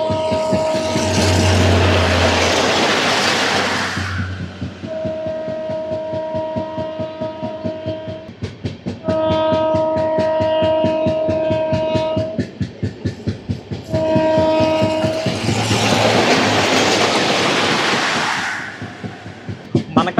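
Tirupati AC Double Decker Express (22707, Visakhapatnam–Tirupati) rolling slowly over track works, with steady clickety-clack of wheels, two loud horn-like blasts near the start and end, and sustained tonal hums throughout.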